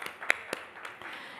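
An audience at a public pharmacy forum in Jamaica claps sparsely, a few separate claps rising and fading over a second or so.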